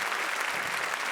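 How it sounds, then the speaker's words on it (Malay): An audience at a Malay language month launch event applauds a renowned painter, a dense, even wash of clapping filling the hall at steady loudness throughout. "Ya, tepukan untuk Encik Kamal."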